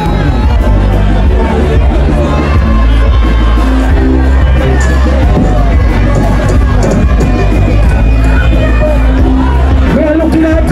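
Dense carnival crowd at a show at St. D'acre Carnival 2024 roars continuously, with cheering, whoops and shouted voices over loud booming music, constant and close throughout.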